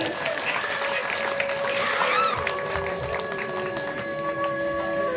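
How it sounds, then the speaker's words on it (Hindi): An audience claps vigorously at a Ram Navami celebration in Gondia, Maharashtra, the scattered, busy clapping running under sustained musical tones that drift in pitch. "सभी एक बार जोरदार तालियां बजा दीजिए"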